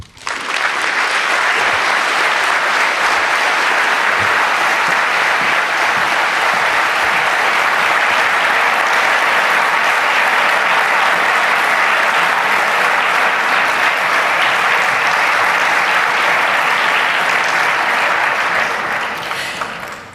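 Sustained audience applause at a UNESCO conference opening on freedom of expression and human rights, following a speech; a dense, even wash of many hands clapping, loud and unbroken for about twenty seconds before tapering.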